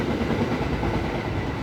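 A train passes by, a steady continuous rumble of rail cars heard alone without talk.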